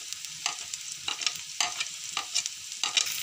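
Cumin seeds tipped into onions and green chillies frying in a pan, a light sizzle broken by repeated rhythmic stirring scrapes, close and clear with no talking.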